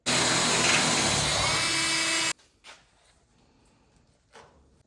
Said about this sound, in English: where we marked it, we're just gonna drill an 8mm hole